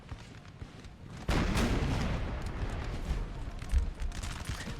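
Artillery fire in Napoleon: Total War, a Napoleonic battle around a town, booming as a loud sustained barrage that swells suddenly and rumbles on with scattered heavier blasts.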